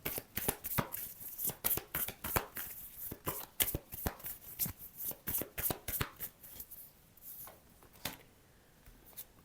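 Tarot cards handled and laid out on a table, a rapid run of crisp flicks and slaps, some close together and some spaced, with a brief lull near the end.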